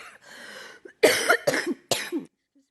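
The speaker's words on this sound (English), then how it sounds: "This is a trauma cough, by the way." Several harsh coughs in a short burst, close and loud, the first softer and muffled, followed by three sharp, rough hacks.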